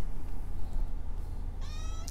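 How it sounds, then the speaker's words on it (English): A pet cat gives a single short meow near the end, heard clearly over a steady low indoor hum. "I'm sorry about my cat. I don't know why she's meowing."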